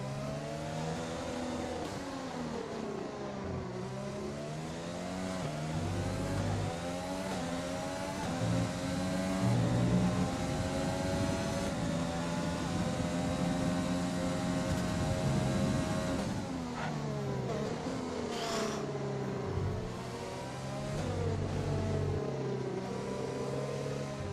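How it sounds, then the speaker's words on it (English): F1 cars in the F1 2020 racing game, including Ferrari-powered cars, rev and whine at high pitch, with the engine note rising and falling as gears shift over a long stretch of racing and no talk. "These Ferrari engine bastards, man, they're so quick."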